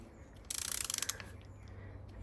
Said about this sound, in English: with a ratchet you can undo that filter